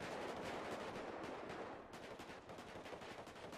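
Gunfire rattles in a GTA V roleplay shootout at the Maze Bank, dense automatic bursts and overlapping shots cracking continuously in a faint, distant-sounding mix.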